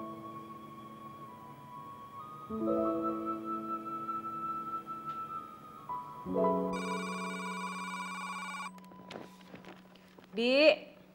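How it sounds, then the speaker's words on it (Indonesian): A telephone rings in an indoor drama scene, with tones repeating in bursts and a brighter ring near the end. People talk softly around it. "Telepon."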